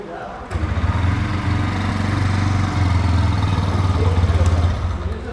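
A 2024 Bajaj Pulsar N125 motorcycle engine starts up after a brief pause and then settles into a steady, low, even idle, close by and running smoothly for several seconds.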